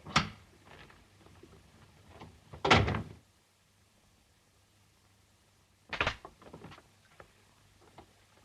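A door being shut and locked in a room, in a 1938 film: a sharp clunk at the start, a louder rattling knock near three seconds, and another clatter with small follow-up knocks around six seconds, with quiet gaps between and no voices.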